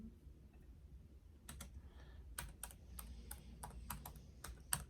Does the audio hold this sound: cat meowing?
no